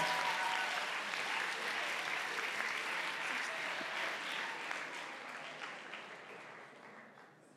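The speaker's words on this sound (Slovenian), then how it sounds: "Tako da, en aplavz" Sustained applause from a concert audience, loud at first and slowly thinning out toward the end, with no talking over it.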